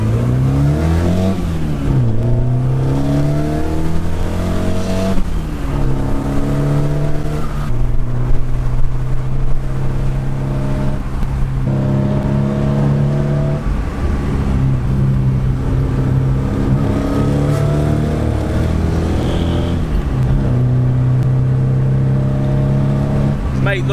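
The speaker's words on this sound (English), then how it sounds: "The roar of this engine is on another level." The loud 2-litre Pinto four-cylinder engine of a 1978 Ford Escort RS2000 revs and roars up and down through the gears on back roads, close up, with a voice talking over parts of it.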